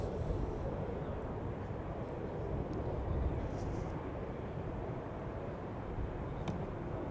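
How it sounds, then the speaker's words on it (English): An Austrian Airlines Airbus A320 bound for Vienna rumbles on the runway at Zurich Airport during a storm, a steady low roar heard from a distance and mixed with heavy wind noise throughout. "on the runway we have Austrian Airlines with an A320 off to Vienna"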